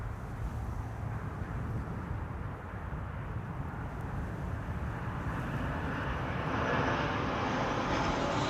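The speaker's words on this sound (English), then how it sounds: "Air France arriving from Paris." An Air France airliner arriving from Paris at Amsterdam Schiphol airport: a steady, broad engine roar that holds loud and even throughout, swelling slightly toward the end as the plane passes, with no talk.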